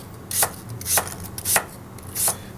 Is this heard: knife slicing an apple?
yes